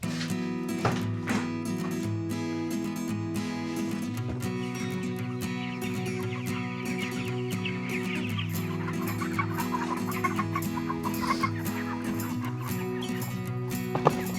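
Flock of chickens on a chicken farm at feeding time, large and small birds clucking in a dense, steady chorus close by, with scattered louder squawks and no talk.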